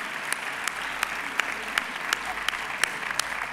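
A crowd at a sports awards gala in San Sebastián de los Reyes claps continuously for an honored group, a moderate, even wash of many hands punctuated by periodic louder single claps, with no voices over it.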